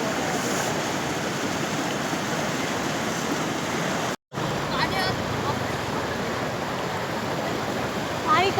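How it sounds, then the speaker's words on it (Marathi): A river flows near Badlapur in a steady, full broadband rush of water, loud and close, broken by one brief dropout; a voice is also present over the flow. "नदी किती छान आहे, नदीचा आवाज किती क्लिअर आहे."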